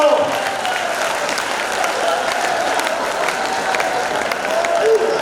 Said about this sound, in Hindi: इस सदन की तालियों का विस्फोट देखना चाहता हूं